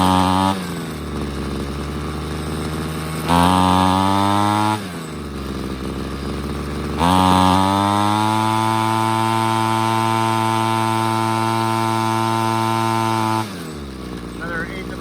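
A Ryobi CS26 string trimmer engine drones loudly at close range, its buzzing idle sagging and bogging down, then revving back up in uneven surges.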